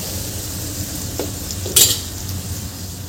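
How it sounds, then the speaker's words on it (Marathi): Tomatoes and spices sautéing with salt in a pan for a groundnut curry, a steady soft sizzle with a few spoon taps and a sharp metallic clink against the pan, no talk. "हे आपलं छान 1 मिनटं परतून घ्यायचं आहे."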